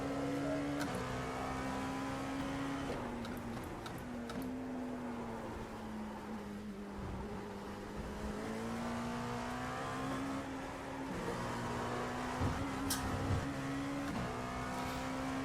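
A Dallara LMP2 prototype race car in iRacing drones steadily at high revs, its engine pitch rising and dipping through gear changes and corners across the lap, loud and continuous with no talk.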